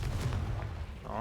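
Confringo fire spell blast cast in the Hogwarts Legacy video game, a short explosive burst with a low rumbling boom, followed by a brief tonal whoosh near the end.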